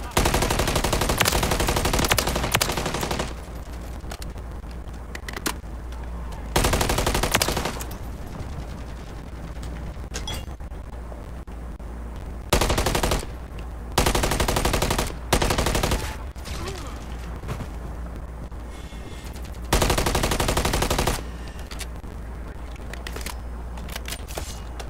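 Loud automatic gunfire in Modern Warfare III Zombies, several long sustained bursts of rapid shots broken by short pauses, firing at a counter UAV overhead, with quieter stretches between volleys.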